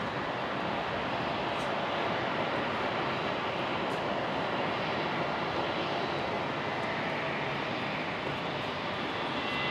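An airplane taking off from runway 01 right at Brisbane Airport, a continuous broad engine roar held at steady loudness throughout, distant and unbroken.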